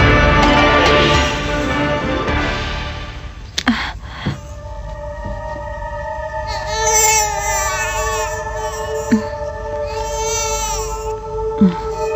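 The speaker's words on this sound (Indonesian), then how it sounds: "dengar suara bayi menangis?" An infant cries in a dramatized scene, wailing cries carrying over a steady background hum, with several rising and falling sustained cries toward the end.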